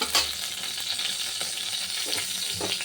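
Cashews, raisins, dried chilli and bay leaf frying in hot oil, a steady close sizzle with occasional stirring scrapes, no talking.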